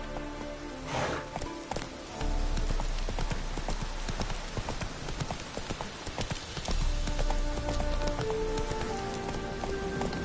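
Galloping horse hooves beat steadily and close in The Witcher 3 video game, mixed with rain pattering on surfaces and a soft whinny, with no voices.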